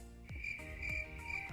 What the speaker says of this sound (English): literally crickets.